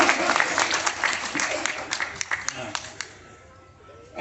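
Audience applause for an engineer at a Hindi speaking event, dense clapping for about three seconds with a few sharp louder claps, then tapering off into near silence.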